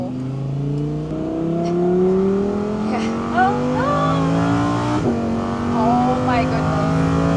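An Audi R8 V10 engine revs and accelerates hard on a racetrack, its pitch climbing steadily before a gear change, loud and close.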